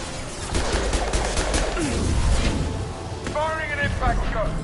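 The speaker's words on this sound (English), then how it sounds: "Firing an impact shot." Dense gunfire in the Mass Effect video game as an impact shot is fired, rapid crackling bursts layered over a busy combat soundscape, with in-game character voices talking over the shooting.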